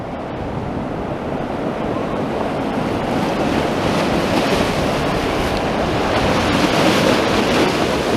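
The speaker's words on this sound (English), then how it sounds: "I do enjoy just watching the sea and listening to the waves." Sea waves wash continuously near Central Pier, a steady broadband surf roar growing slightly louder over several seconds, with some wind buffeting the microphone and no voices.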